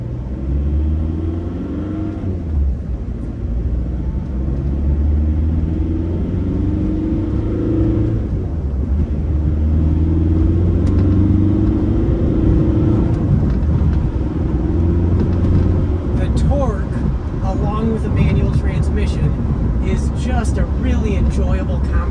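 A 2006 VW Jetta TDI with a high-mileage diesel engine and DSG transmission, heard while driving as a loud, steady low rumble that rises and whirs under acceleration, with someone talking over it throughout.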